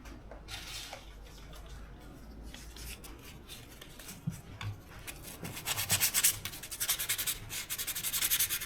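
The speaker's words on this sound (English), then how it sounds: "now I'll just get a bit of sandpaper" Sandpaper rubs across the electrical contacts of a Morris Eight car, giving a steady scratchy rasping with repeated back-and-forth strokes that grow louder and quicker toward the end, close up and with no talking.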